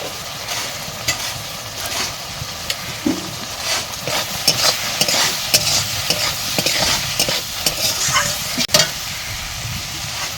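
Spices fry in a pan while a spoon stirs them through, making a continuous sizzle with frequent close scraping strokes and one sharp knock near the end.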